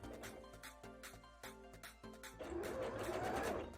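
A sewing machine runs in short, stop-start bursts of stitching on fabric for a bra, close and fairly loud, then a rougher, denser rustling churn takes over toward the end.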